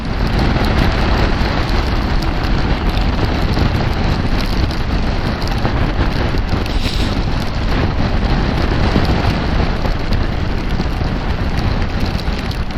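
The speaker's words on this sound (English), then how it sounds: "Truck alert." A truck passes on a wet, rainy road in Wales, its broad rumble and tyre spray merging with steady rain and wind noise throughout.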